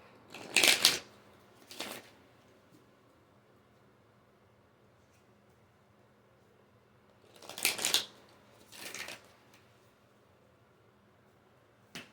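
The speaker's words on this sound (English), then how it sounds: "I want to shuffle first" Oracle cards riffle and shuffle in a few short bursts, close by, separated by long quiet stretches.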